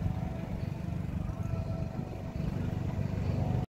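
The single engine of a fishing boat at sea runs in a steady low rumble with a faint whine, continuous and close, with no talk.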